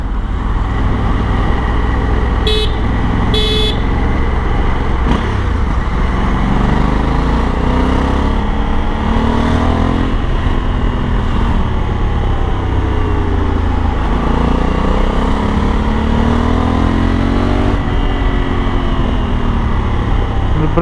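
A 2020 Honda Africa Twin motorcycle rides on the road, its engine droning steadily and loudly over wind and road noise, with a few brief sharp ticks and pops near the start.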